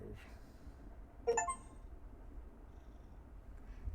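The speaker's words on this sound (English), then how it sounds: "we can hear you purring" A cat purrs very faintly and close in a quiet room, barely above the background, with one short, brighter chirp-like sound near the middle.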